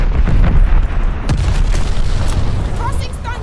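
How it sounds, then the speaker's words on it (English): A glide bomb detonating in Call of Duty Vanguard multiplayer, a loud, deep rumbling blast with rolling low-end boom and crackling debris throughout. "Friendly sending a glide bomb."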